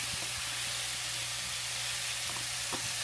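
Two spoons of butter melting in a very hot pan for a chicken Alfredo give a steady, close sizzling hiss throughout, with a few faint clicks and a low hum underneath.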